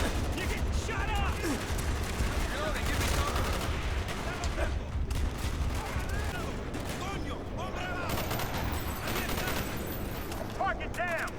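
Rapid gunfire and bursts of automatic fire from the Call of Duty Black Ops campaign crackle continuously, mixed with explosions and game effects, while voices talk over the action.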